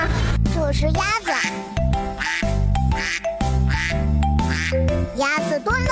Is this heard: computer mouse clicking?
no